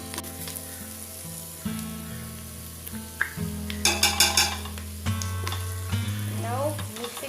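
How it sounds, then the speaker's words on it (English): Ginger garlic paste sizzles among fried onions in a hot pan, a continuous close frying hiss with occasional stirring scrapes and clinks, under steady background music and no speech. "Now the onion is sprouted, and I am adding the ginger garlic paste."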